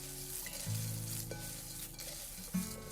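A gluten-free cornflake mixture is stirred in a pan over gentle heat, giving a soft, steady sizzle with faint scraping, heard close and alone without speech.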